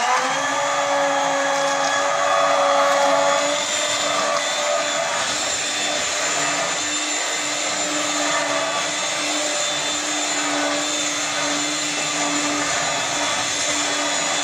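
Hand blender whirring steadily in a pot while pureeing paprika chicken sauce, a continuous loud motor whine with a slight rise near the start, running alone without pause.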